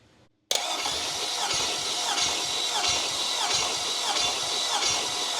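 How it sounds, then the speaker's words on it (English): A car engine cranks over with a sudden start during a compression test, then a steady, loud, rhythmic churning continues without firing into a run. "Now we turn the engine over until we've reached a constant pressure on our gauge."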